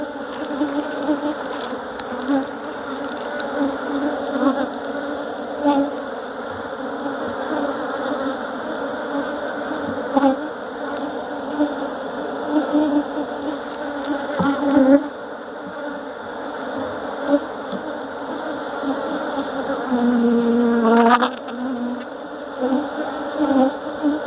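Bees buzzing during a beehive inspection in Nigeria, a dense continuous swarm drone filling the whole stretch, with individual bees passing close now and then and faint handling sounds underneath.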